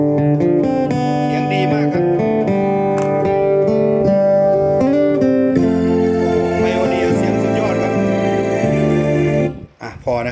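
Recorded music from an audio CD plays through a Pioneer DV-2010K DVD player, with sustained melodic notes and chords that keep changing before cutting off abruptly near the end.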